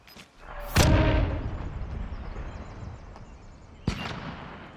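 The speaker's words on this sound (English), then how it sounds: "I'm gonna rocket them." Rocket explosions in Call of Duty Modern Warfare: a loud, close boom with a long rumbling tail, then a second sharper blast about three seconds later.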